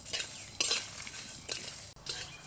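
Whole spices, cumin and shahi jeera among them, dry-roasting in a pan for chicken biryani as a spoon scrapes and stirs them, making quick close metallic scrapes and a light sizzle.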